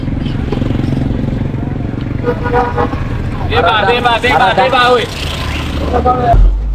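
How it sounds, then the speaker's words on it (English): Busy street traffic in the Kenyan town of Kenol, with vehicles heading toward Murang'a: a constant nearby engine rumble, then a run of loud, repeated horn toots midway and again near the end, with voices mixed in. "All these vehicles are going to Murang'a."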